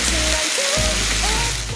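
Tomatoes hit hot green onion oil in a wok, setting off a loud, dense sizzle and crackle close by.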